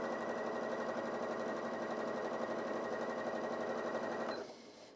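A Janome DKS100 sewing machine runs at top speed, a fast even needle rattle with a steady hum, close and continuous for several seconds before it abruptly stops.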